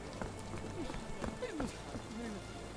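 Horse hooves clip-clop in a Sherlock Holmes video game, a quiet run of irregular hoof knocks at some distance under faint background ambience, with a voice talking.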